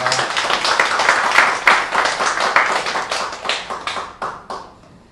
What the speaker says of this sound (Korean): 우리 박수로 격려해 주시기 바랍니다.